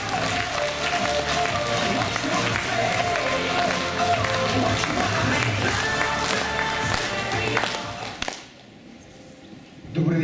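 Applause from an audience at an award ceremony for a nominee in the artistic recitation category, dense and steady for about eight seconds before dropping to near silence, with a few more claps at the very end.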